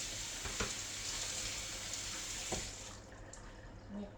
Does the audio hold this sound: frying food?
yes